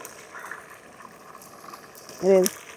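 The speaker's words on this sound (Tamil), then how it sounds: "எண்ணெயில் எப்படி தண்ணி பட்டுருச்சு போல கொதிக்கு." Hot cooking oil in a pan, about to fry onions, bubbles and crackles faintly after water got into it; the sizzle stays soft and steady, and a voice speaks briefly near the end.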